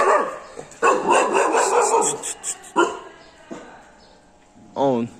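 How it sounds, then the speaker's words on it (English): A small puppy barks and yips in short bursts outdoors, fairly close, with someone talking between the barks and a brief whimpering yelp at the end. "Oh, there is only one puppy over here."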